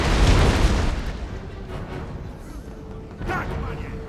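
Horse artillery fires in the strategy game Empire: Total War, giving a heavy boom at the start and a second blast near the end over a low rumbling battlefield, with someone talking over it.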